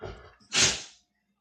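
A single sharp sneeze bursts out after a short breathy intake, loud and close, then quickly fades into silence.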